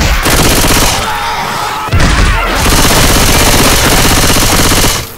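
Gunfire in the video game Left 4 Dead 2, Dark Carnival campaign: loud, dense bursts of rapid automatic shots that continue almost without a break, with a short gap and a heavy thud partway through.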